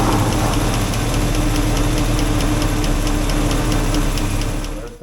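An engine idles with its valve cover off during a valve adjustment, a loud, constant mechanical drone with fast, even ticking from the valvetrain, running alone for about five seconds before fading slightly.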